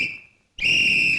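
A person whistles a sustained high tone, breaks off into a brief silence, then resumes with a louder, steady held note.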